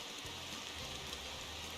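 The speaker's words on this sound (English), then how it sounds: "Ah, the rain. It's going to make life so much easier." Steady rain in the Motor Town driving game, a constant broadband hiss under a low engine drone, with no voices.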